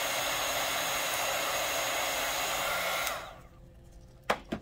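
A craft heat tool blows hot air to melt gold embossing powder on tassels, a loud, steady close-up whoosh for about three seconds that then cuts off, leaving quiet room tone with a couple of small knocks.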